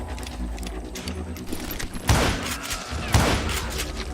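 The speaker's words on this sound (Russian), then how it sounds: "But I just kept shooting at anything I could see up in those damn rocks." Gunfire in the Western shooter video game Call of Juarez: Gunslinger, with a couple of loud, sharp shots standing out over a busy, continuous game soundscape.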